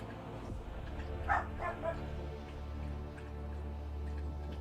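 Dogs bark a few times in the Warhammer 40,000: Rogue Trader video game, short yips rising over a steady droning ambient background at moderate volume.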